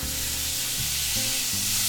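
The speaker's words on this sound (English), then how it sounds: "You hear it sizzling" Steady, close sizzling of rice frying with tomato sauce in a pan, a continuous hiss with low stirring scrapes underneath, no voices.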